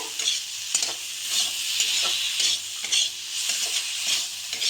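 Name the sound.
spice paste frying and stirring in oil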